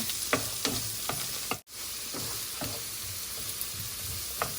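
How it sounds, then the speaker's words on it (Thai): Onion stir-fried on low heat for stuffed omelette, a steady sizzle with repeated light scrapes of a spatula at an even rhythm, close and alone. "เราจะผัดไฟอ่อนนะคะ"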